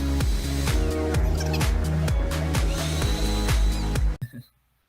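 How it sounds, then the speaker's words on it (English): A switch-activated leaf blower attached to a bowling ramp in an adapted physical education setting runs with a loud, steady motor whine and rhythmic pulsing, then cuts out abruptly and winds down to silence. "a leaf blower has been attached to the bowling ramp"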